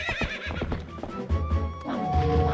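A horse in The Legend of Zelda: Twilight Princess on GameCube lets out a loud, close whinny that rises and then trails off, with game sound effects around it.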